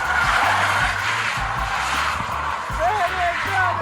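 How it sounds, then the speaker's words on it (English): Tesla Model 3 doing a donut, tires squealing and skidding loudly with a continuous rubbery screech over engine noise, the pitch wavering as the car spins. "here's a Model 3 doing a freaking donut"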